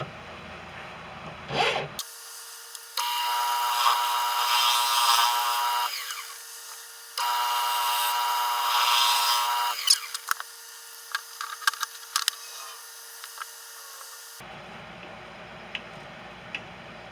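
Woodturning tool cutting a tenon on a spinning wooden bowl blank from a felled tree on a lathe, two sustained close scraping cuts with a humming tone, separated by a short pause, then lighter intermittent ticking contacts.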